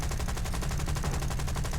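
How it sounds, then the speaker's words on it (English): Rapid cannon and machine gun fire from aircraft in War Thunder, a dense, continuous rattling burst of shots, loud and unbroken with no voices over it. "Cannon and machine gun fire."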